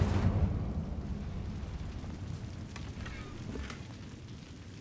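Incendio fire spell cast in Hogwarts Legacy, opening with a brief whooshing burst of flame that settles into a quieter crackling, rumbling burn which slowly fades.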